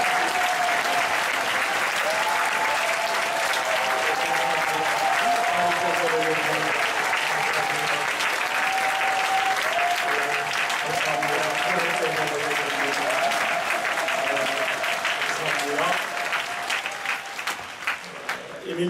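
A church congregation at a Friday night service applauds loudly and steadily to welcome a seminary president as guest speaker, a sustained dense wash of clapping with voices and music beneath that tapers off at the end.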